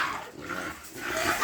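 A four-month-old puppy for sale at a pet market makes low growling and whining dog sounds, close and continuous amid background market noise.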